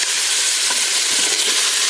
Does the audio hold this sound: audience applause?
no